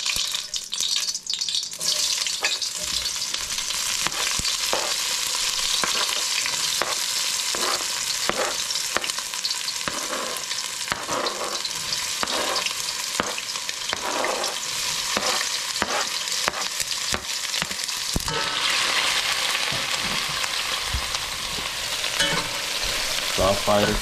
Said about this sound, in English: I have some onion, some celery, some tomato, green onion and pepper I'll add in here